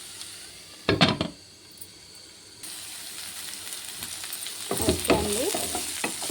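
Onion frying in a pan gives a steady hiss and sizzle, broken by bursts of scraping and clattering as it is stirred, with a brief spoken word partway through.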